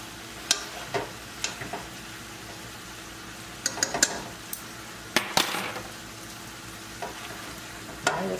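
Spinach cooked down in a chicken sausage stir fry is pulled apart and turned in the pan, with soft scraping and stirring clinks over a steady low sizzle, a few sharper utensil knocks standing out.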